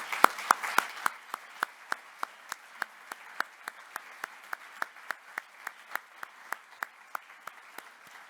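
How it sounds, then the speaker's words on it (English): Sparse applause at a congress opening, a few quick claps at first and then one slow, evenly spaced clap after another, like a lone person clapping steadily in a quiet hall. "So also give them a big applause."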